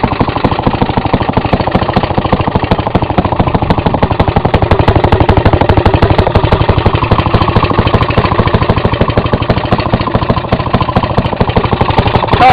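An old Maytag 92 washing machine's single-cylinder gas engine, its carburetor in need of adjustment, idles loudly and close by. Its rapid, steady chugging pulse runs throughout with no talking.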